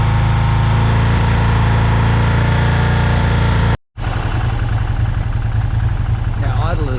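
Moto Guzzi motorcycle engine with over 190,000 km, idling with a steady mid-pitched throb, loud and close, briefly cut off before resuming with a slightly different tone.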